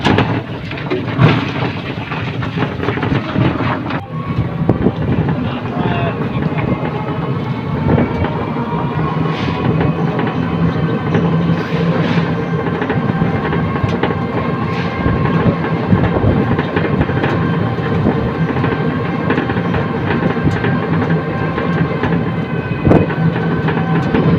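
Riding aboard a train after boarding from a station platform: a continuous heavy rumble with rhythmic clickety-clack of wheels over rail joints, loud and close, with no talking.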